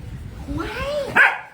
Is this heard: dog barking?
yes